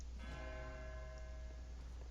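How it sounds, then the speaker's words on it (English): Church bells ringing in the game Dragon Age Origins, a faint sustained tolling tone with lingering overtones over a low ambient hum, no talking. "I like the bells going too."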